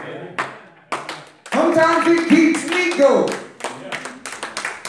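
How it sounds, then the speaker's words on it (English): A church congregation claps during a worship service, with rhythmic claps punctuating a man's speech and a sustained sung or organ-like passage in the middle. "He wouldn't be clapping by himself."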